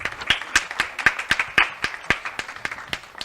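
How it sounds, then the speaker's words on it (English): Applause for panelists at a conference on sustainable development, sharp, distinct claps from a modest group at a brisk irregular rhythm, fairly close and clear, without talk over it. "So please join us with a round of applause for the panelists."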